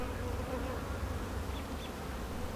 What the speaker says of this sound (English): The bees and the little buzzing flies were really enjoying all that pollen.